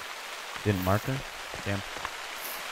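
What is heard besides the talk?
rain falling in video game TheHunter: Call of the Wild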